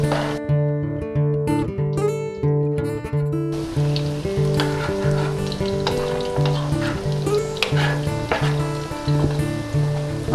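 Vegetarian lentil meatballs frying gently in ghee, a steady close crackle and sizzle with scattered pops, heard alongside a recurring tonal background pattern, no talking.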